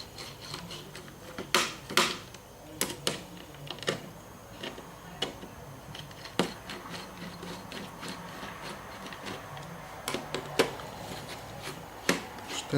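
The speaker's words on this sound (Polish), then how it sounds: "O, i teraz tak, śrubeczki odkręcamy." Screwdriver unscrewing small screws from the cooling system of an HP ProBook 6450b laptop: sharp irregular clicks and scraping ticks, close and distinct, with no talking.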